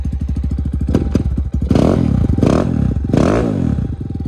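A new dirt bike's engine, fitted with what sounds like an FMF exhaust, revs hard and loud and close by. Quick rising blips give way to sustained throaty revving with a harsh, crackling edge.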